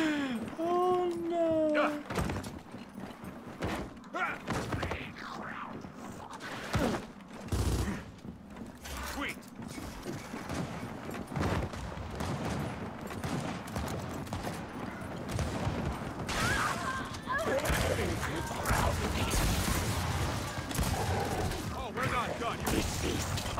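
Gunfire bursts and rapid weapon fire from the video game Gears of War 4, played on Xbox One X, with repeated shots and impacts while a player talks over the action.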